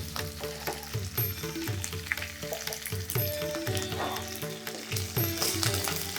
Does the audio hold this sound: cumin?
yes